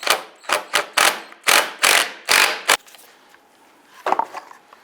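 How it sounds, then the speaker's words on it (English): A T30 Torx bit works loose a bumper bracket bolt on a 2002-2008 Dodge Ram 1500, giving about seven sharp, close ratcheting bursts in quick succession, then a quieter pause and one final short burst. "Go ahead, loosen and remove this bolt."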